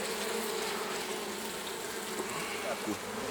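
Honey bees buzz densely around open hive frames at a forest apiary in early April, a loud continuous hum filling the air close up.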